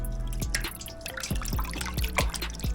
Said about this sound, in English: submerge it in this cold water, agitate it a little bit